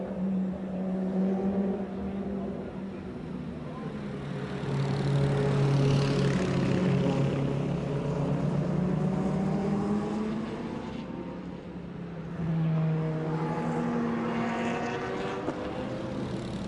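Race cars lapping the circuit at the 2011 Spa 24 Hours endurance race, engine notes swelling and fading as cars pass at a distance, a steady rising-and-falling roar with no voices.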